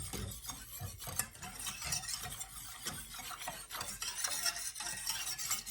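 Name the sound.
whisking packet gravy mix in a pan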